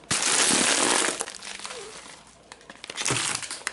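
Crinkly plastic snack packaging, a spicy snack, is torn open with a loud burst of crackling, then quieter rustles, then another crinkling burst near the end.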